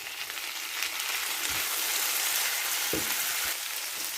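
Onion with red, yellow and green peppers sautés in a pan for a fish stew, a loud continuous close sizzle with a few soft stirring thumps, no voices.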